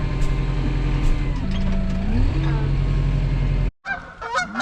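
Loud geese honk over a steady low engine rumble, calls overlapping nonstop until a brief drop to silence, then a few more scattered honks.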